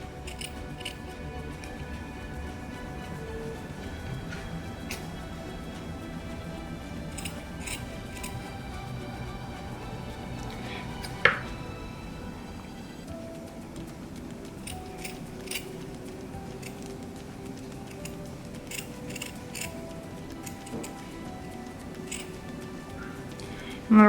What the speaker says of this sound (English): I'm slowly gonna start by cutting a line down the middle, halfway through, like this. And I'm gonna start cutting out little triangles.